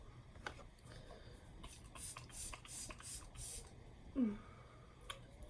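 e.l.f. Dewy Coconut Mist face spray: a quick run of soft, hissing spritzes, close but faint against a quiet room.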